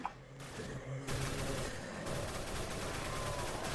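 AK rifle fire in a Roblox shooter game, a loud sustained burst of rapid automatic shots emptying a magazine, dense and continuous for several seconds with no voices.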